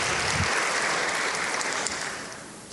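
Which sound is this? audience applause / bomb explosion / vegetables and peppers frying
audience applause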